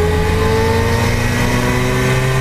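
A car engine revs loudly and steadily close to the microphone, holding a sustained droning tone with pronounced harmonics before cutting off abruptly.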